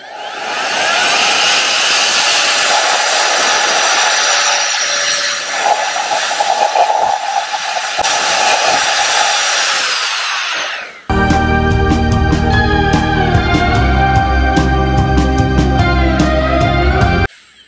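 A Nitecore BB2 electric dust blower runs in turbo mode with a loud, steady, rushing whoosh that holds for about ten seconds, then cuts off as tonal, music-like sounds take over.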